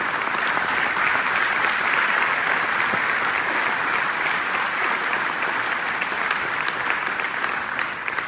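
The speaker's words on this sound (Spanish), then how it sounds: "Dele su ofrenda de aplauso al Señor" A church congregation claps together in a sustained, dense round of applause, loud and close, with a few voices rising faintly through it.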